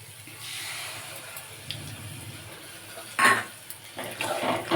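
Melon seed paste is stirred with water in a kitchen pan, giving a soft scraping and swishing with a couple of sharper utensil clinks against the pan near the end.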